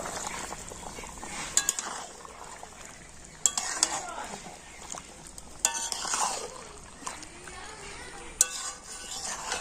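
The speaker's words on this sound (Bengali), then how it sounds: "এবারে আমি সব কিছু দিয়ে তো চিকেনটা কিন্তু ভালো করে কষে নেব" Chicken cooking in spices in a pot for biryani: a steady low sizzle of frying with occasional sharp clinks and scrapes of a spoon stirring against the metal.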